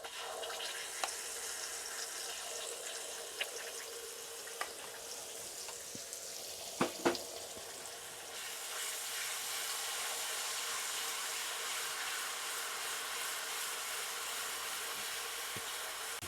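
Garlic and ginger paste, an even half-and-half mix, sizzles in a hot pan while cooking for a vindaloo, a steady broad hiss with a few sharp clinks of a utensil partway through and the frying growing louder and more constant afterward.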